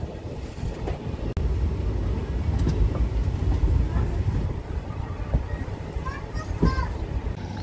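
Train halting at Karatagi railway station on the Munirabad–Raichur line, with a continuous loud rumble of rail cars and wind, occasional clanks and squeals, and people talking throughout.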